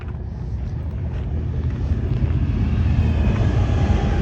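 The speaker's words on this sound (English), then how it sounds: "train going by." A steady, heavy low rumble rolls past without a break, with wind buffeting the microphone, like a train going by nearby.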